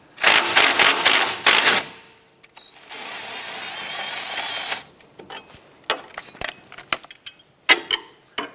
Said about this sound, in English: Using an 18 millimeter socket on the nut and a 20 millimeter wrench on the back side, loosen this nut and remove the end link.